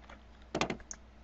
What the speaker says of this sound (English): I am playing with a keyboard and mouse.